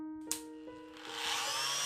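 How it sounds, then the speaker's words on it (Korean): An electric saw switched on and spinning up in an autopsy room of a horror radio drama, a sharp click followed by a rising, steady high-pitched whine that grows louder and keeps running. "부검팀장이 전기톱의 스위치를 껐다 켰다 하자 전기톱 돌아가는 소리가 났다"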